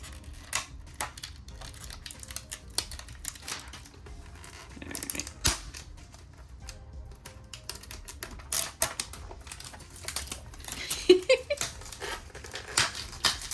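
Hands tear open and unwrap a plastic-wrapped Mini Brands mini capsule. Close, irregular crinkling and crackling of plastic goes on throughout, with sharper snaps scattered between.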